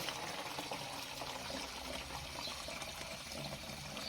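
Water runs steadily into a bottle, filling it with a continuous close trickling rush that holds at an even level throughout with no talk.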